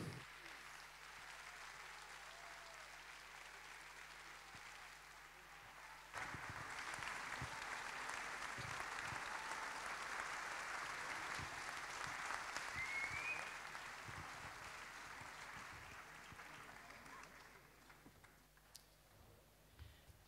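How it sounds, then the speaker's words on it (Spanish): Sustained applause from a theatre audience at a musical gala, a dense steady clapping that grows slightly louder midway and carries on for about twenty seconds before thinning out. "un aplauso fuerte para Iker Freire y Javier Mejuto."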